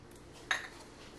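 Raw scallops dropped into a kitchen bowl make one brief, clear clink and soft plop, close up, in an otherwise quiet room.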